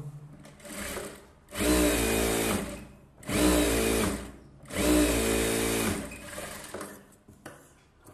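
A sewing machine stitching a saree blouse: three loud, steady whirring runs of about one and a half seconds each, separated by brief pauses, heard up close with no voices.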